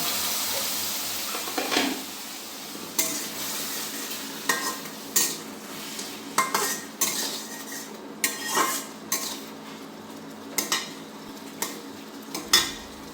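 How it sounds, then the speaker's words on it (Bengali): Chickpeas sautéed with water and spices in a pan, a soft continuous sizzle under repeated spatula scrapes and clinks against the metal in an uneven stirring rhythm, no voices. "জলটা দিয়ে ছোলাটা একটু ভালো করে কষে নেব"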